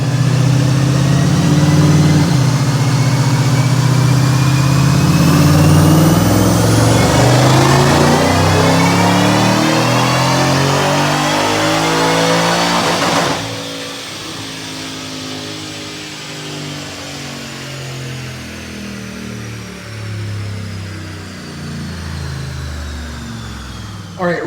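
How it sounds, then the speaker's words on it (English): A supercharged 2014 Mustang GT engine with a Whipple supercharger and automatic transmission roars at high revs on a dyno, pitch sweeping upward under load for several seconds, then drops off and winds down to a lower, settling drone. "right now, check out this dyno pull"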